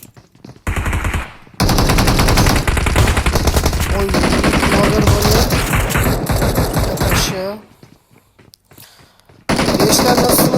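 Rapid automatic Uzi fire in PUBG Mobile, with two long loud bursts of continuous rattling shots separated by a short pause, then a quiet gap before another burst begins, with game sounds and muffled player voices mixed in.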